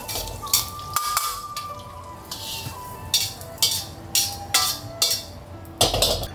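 Ginger and garlic hitting hot oil in a wok, crackling as a metal spatula scrapes and clanks against the pan in quick, regular strokes, with a few heavier knocks near the start.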